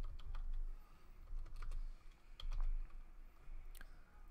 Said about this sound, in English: So let's go ahead and type that up here.